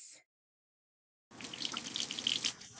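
Water runs from a tap in a short, steady gush that starts abruptly after a brief silence, close and fairly loud, with no talking.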